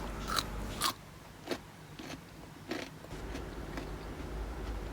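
Crisp bites into crunchy Thai three-flavour pickled vegetables, homemade cucumber pickles, come as several sharp close crunches spaced about a second apart, then softer chewing noises, with no talking.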